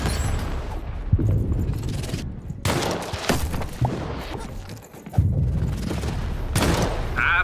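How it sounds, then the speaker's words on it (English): A cannon fires in the video game Lost in Random: loud, continuous booming bursts and crackling impacts, with heavy blasts recurring every second or so and no pause between them. "Shoot the button to fire the cannon."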